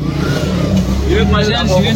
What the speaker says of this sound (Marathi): गाईज 2 तासाने फायनली गाडी चालू झाली आमची.